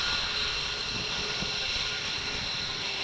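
Military fighter jets such as the F-35 at a Red Flag training exercise give a steady, broad roar that holds at an even loudness throughout without a break.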